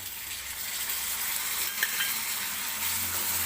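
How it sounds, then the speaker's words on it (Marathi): Tomatoes fry in hot oil with onion and capsicum for pav bhaji, giving a steady, even sizzle throughout with one small clink partway through. "टोमॅटो सुद्धा अगदी मऊ होईपर्यंत आपल्याला तेलामध्ये भाजून घ्यायचं आहे."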